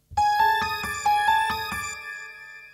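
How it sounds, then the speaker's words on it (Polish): An electronic bell ringtone played as a school break bell gives a quick run of bright, clear chime notes, then a rising ringing pattern that fades out, alone with no speech. "Na taki tylko dzwonek nas stać w Radio Belfer."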